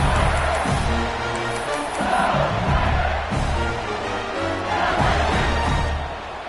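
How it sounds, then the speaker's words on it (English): A stadium crowd in a college football video game roars and cheers after a punt return, a loud, dense wash of voices that swells and ebbs throughout. "Very little will make a crowd hold its breath like a punt return, and he brought them to their feet on that one."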